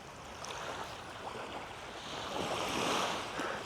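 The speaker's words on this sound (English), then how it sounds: "The ocean nice and calm." Calm ocean waves wash gently onto Levante Beach in Benidorm, a soft continuous surf that swells slightly toward the end, with no voices.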